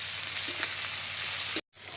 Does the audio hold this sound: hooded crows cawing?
no